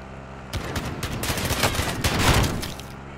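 Rapid bursts of gunfire from a shooter video game, a dense crackling volley running about two and a half seconds, loud and close with no talking over it.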